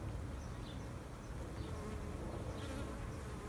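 Honeybees from a nucleus colony hive hum in a steady, dense drone that fills the whole stretch at an even moderate level, with individual bees passing close now and then.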